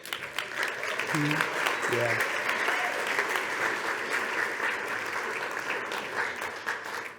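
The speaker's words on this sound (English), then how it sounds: "You don't want to clap for that one." Steady audience applause at a climbing slideshow talk fills the room for several seconds, with a brief spoken word and a few voices over the clapping.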